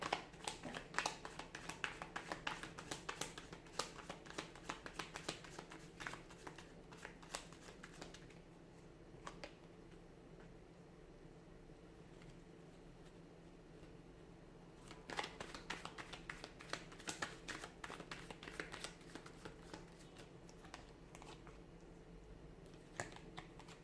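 Tarot cards shuffled by hand in repeated riffles and flutters, close and crisp, with a quieter stretch in the middle before the shuffling picks up again; a faint voice is barely present.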